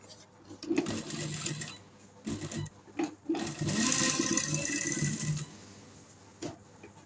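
A sewing machine stitches fabric for a round neck design, running in close bursts of rapid mechanical whirring separated by short pauses, with faint handling noises around it.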